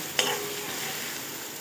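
Chhatu mushrooms fry in a pan with a steady, close sizzle, opening with one quick scrape of a spatula; no talking.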